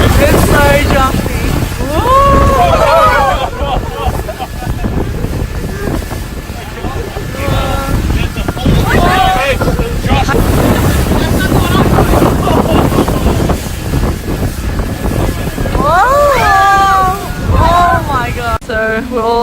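A speedboat bounces over choppy water on a trip in Hong Kong, with a constant roar of wind buffeting the microphone and engine and water noise throughout. People talk intermittently over the din.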